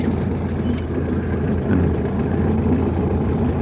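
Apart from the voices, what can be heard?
boat outboard motor running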